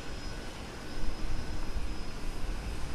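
A seaplane's engine drones steadily in the distance as it prepares to take off, a broad continuous roar that swells slightly partway through, with no talking.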